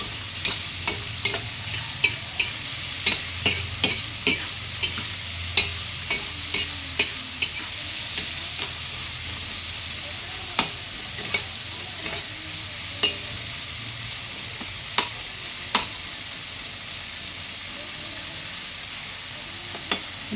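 Bitter gourd (ampalaya) stir-fries with egg in a pan, a steady sizzle under frequent sharp spatula taps and scrapes that come in quick bursts early and thin out later.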